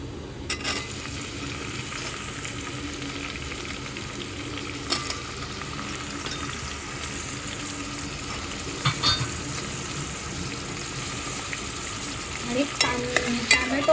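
Onion browned in a pan with tomato frying and being stirred, a steady sizzle under repeated soft scraping and occasional utensil knocks against the pan, growing busier near the end, no speech.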